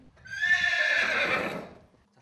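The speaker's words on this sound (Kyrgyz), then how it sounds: "Минтип асыл тукум аттарын ойнотуп жаткан Рыспек Мамытовду азыр көпчүлүк мыкты тележурналист эмес, мыкты саяпкер катары билишет." A single purebred horse lets out one loud, clear whinny lasting about a second and a half, close by with little background noise, while horses are exercised.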